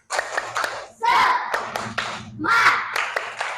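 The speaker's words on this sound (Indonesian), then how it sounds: "Oke, tepuk semangat." Schoolchildren in a classroom perform a rhythmic spirit clap, with short bursts of hand claps in a patterned beat mixed with their chanting voices.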